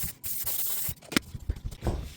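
An aerosol can hisses out a lubricant spray in two sharp bursts near a resin and wood table build, with short clicks and handling sounds between them and no talk.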